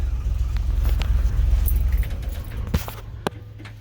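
An old engine, running for the first time in 35 years, starts and rumbles close by, loud and uneven at first and then easing off, with some light clicks and jangling near the end.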